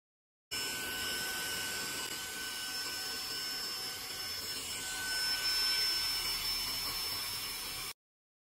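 A Saker 3-in-1 cordless vacuum runs fitted with the long flat suction nozzle and flat brush, giving a steady, even whine with a bright high-pitched tone that holds constant for several seconds and then cuts off.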